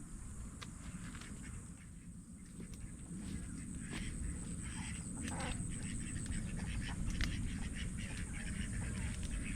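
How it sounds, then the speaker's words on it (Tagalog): Ducks out in a rice paddy quack in scattered calls, moderately distant and fairly faint, over a dense, steady outdoor background noise. "ng itik andyan sa gitna ng palayan po makakain ng palay"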